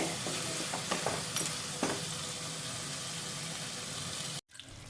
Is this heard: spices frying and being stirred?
yes